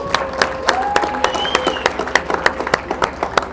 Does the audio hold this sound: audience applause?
yes